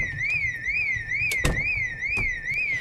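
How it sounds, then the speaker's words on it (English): Wailing electronic alarm blaring from a farmhouse in the zombie survival game Project Zomboid, a loud steady rising-and-falling siren tone that repeats about every half second, with a few sharp knocks over it. "Why is there an alarm on a farmhouse?"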